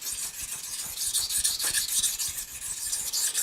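A knife is stroked back and forth on a wet sharpening stone, giving a steady gritty rasping scrape with a quick regular rhythm, close and fairly faint, with no talking.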